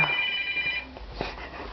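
A telephone rings briefly with a steady electronic tone in the first moments, then stops, followed by quiet rustling and handling noise.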